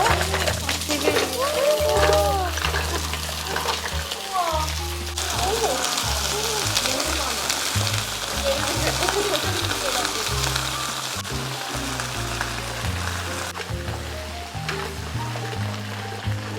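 Mussels fry in a paella pan with a steady, close sizzle that runs the whole time. People talk over the cooking and music plays in the background.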